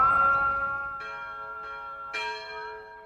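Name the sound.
church bells ringing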